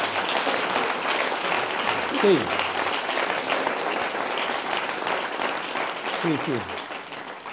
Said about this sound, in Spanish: un aplauso para vosotros por haber venido aquí